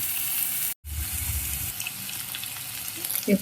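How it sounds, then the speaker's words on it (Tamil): Onions sizzle and fry steadily in a hot pan, a soft continuous crackle with a brief gap and light stirring sounds. "வெங்காயம் சேர்த்து வதக்க போகிறேன்"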